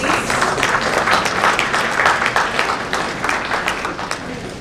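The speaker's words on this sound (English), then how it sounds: "Huge round of applause," An audience at a corporate summit gives a steady, dense round of applause welcoming a speaker, loud and close, sustained evenly throughout with no talk over it.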